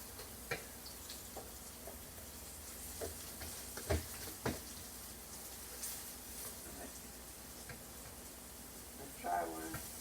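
Okra and green beans fry in a pan with a steady soft sizzle, broken by occasional faint clicks and taps of a utensil against the pan.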